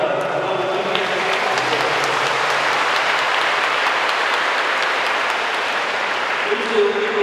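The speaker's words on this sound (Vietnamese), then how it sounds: "Xin cộng đoàn nhận một tràng pháo tay thật lớn thay lời cảm ơn quý cha." Congregation applause inside a Catholic church during a New Year's Day feast Mass, loud sustained clapping from a large crowd that fills the space evenly for several seconds.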